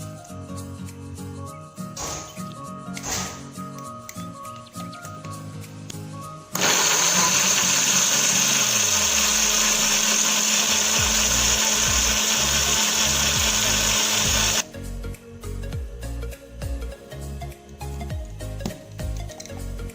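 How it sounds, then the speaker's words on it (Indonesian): A blender grinds a spice paste of five red chilies, one candlenut and a little water for rice vermicelli, a loud steady whirring roar lasting about eight seconds, framed by quieter kitchen clatter before and after. "Ini bumbunya yang sudah selesai kita blender."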